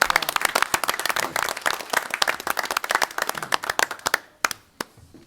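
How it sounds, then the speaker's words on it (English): A meeting audience at a village board of trustees session applauds a color guard, a dense burst of clapping that thins into a few scattered claps near the end. "them a round of applause."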